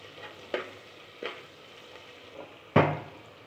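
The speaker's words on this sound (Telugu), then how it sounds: "వీటిని బ్రౌన్ కలర్ వచ్చే వరకు ఫ్రై చేసుకోవాలి" Vegetables frying in a pan with a little salt, a soft steady sizzle broken by several sharp stirring bursts, the loudest near the end.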